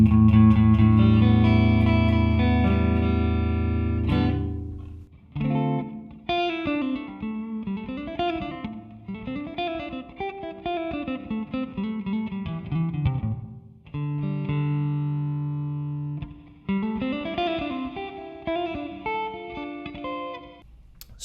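Electric guitar played through a TC Electronic Hall of Fame reverb pedal: a sustained chord rings out and decays, then plucked picked phrases follow with lush reverb tails blurring the notes together.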